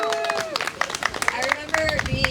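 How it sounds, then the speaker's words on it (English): Scattered clapping from a camp-out audience at a bike story night at the Happy Horse Hotel, with voices talking and murmuring over the sparse claps. "one more big round of applause for Jason"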